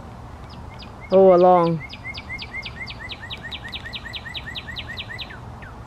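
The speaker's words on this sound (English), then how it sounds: "the birds are happy to see them, so they're happily chirping" Small birds chirp outdoors in a summer garden full of blooming lilies, a rapid run of bright repeated chirps continuing for several seconds after a brief spoken phrase.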